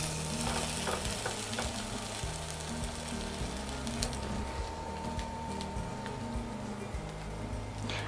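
Leftover chimichurri frying in a non-stick pan for a vegan arrachera sandwich, a dense continuous sizzle with stirring scrapes, close and steady throughout.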